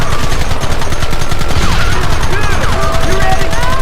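Western-style gunfire from Red Dead Redemption, a loud, heavy fusillade of rapid shots with a voice shouting faintly underneath.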